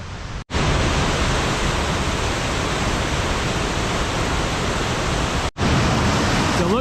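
Rushing river water roars as a loud, continuous broadband wash at a mountain river crossing on the trail near Bishop Pass, broken by two brief cutouts.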